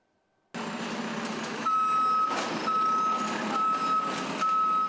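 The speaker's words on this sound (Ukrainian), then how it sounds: "Після чергового масованого обстрілу у Запоріжжі звідусіль чути, як працює комунальна техніка" Municipal utility trucks work in Zaporizhzhia after a massive shelling attack. A truck's reversing alarm beeps in a steady, repeating rhythm over a continuous engine and street rumble, with no voices.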